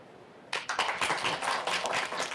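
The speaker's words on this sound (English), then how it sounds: "let's keep the round of applause going for all of our panelists here" A hackathon audience bursts into applause for the panelists, with dense hand clapping starting abruptly and continuing steadily at moderate distance.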